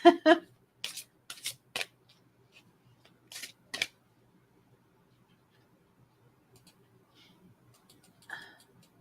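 Playing cards shuffled in a few quick riffling bursts near the start, then mostly quiet with faint handling sounds and a brief rustle near the end, no talking.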